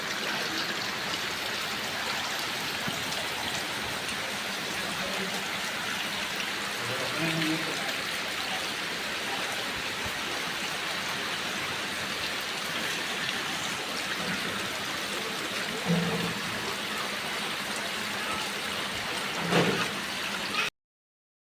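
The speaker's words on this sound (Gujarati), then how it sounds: "નીચે ટાંકામાં જાય છે પાણી" Rainwater running steadily down into a tank below: a constant close rushing and trickling flow throughout, with faint voices and small knocks in the background.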